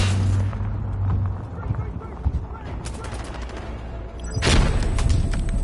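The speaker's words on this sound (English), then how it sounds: "There's people shooting us, I think." Gunfire in the video game Insurgency, rapid bursts and scattered shots with a loud sharp volley near the end, set against continuous game noise while people talk over it.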